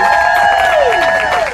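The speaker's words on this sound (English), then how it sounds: "Please give a round of applause." Crowd noise from an audience at a political rally against Brett Kavanaugh's nomination, a dense wash of cheering and clapping that fills the moment loudly and steadily before tapering slightly at the end.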